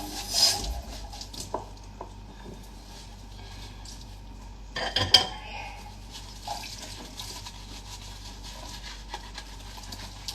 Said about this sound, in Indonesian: aku tinggal sebentar untuk nyuci piring